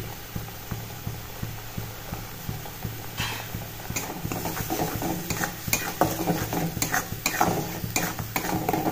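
Coriander leaf paste with salt and turmeric is stirred in a pan, a spoon scraping and clinking against the metal in repeated strokes over a soft sizzle, growing busier and louder toward the end.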